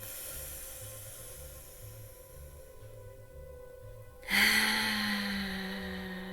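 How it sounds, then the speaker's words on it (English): A deep, slow breath is drawn in during a guided breathing exercise, a soft airy rush that swells near the end over a faint low musical drone, with no talking. "Let's go ahead and take another deep breath in, all the way from the base of our pelvic floor, inhaling in"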